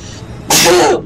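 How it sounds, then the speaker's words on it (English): A single sharp sneeze erupts abruptly after a brief quiet moment, close to the microphone and loud. "I knew it. I knew I felt a sneeze."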